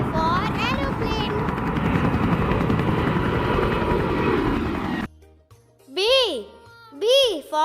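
Aircraft engine drone, a steady loud roar lasting about five seconds, then cutting to a voice speaking in short bursts.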